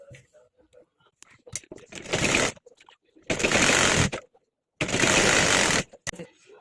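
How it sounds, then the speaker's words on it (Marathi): A sewing machine stitches fabric for a baby's bunny-ear hat in three loud, steady bursts of about a second each, with quieter handling noises and pauses in between. "इथे अशी शिलाई लावून घेऊ"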